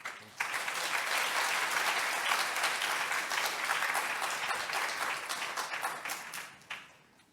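Church congregation applauding a guest pastor and high school principal, steady full applause from many hands filling the room, fading out at the end.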